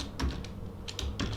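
Keys clatter on a computer keyboard while an SQL statement is typed, in a few quick bursts of clicks with short pauses between, close and moderately loud with no talking.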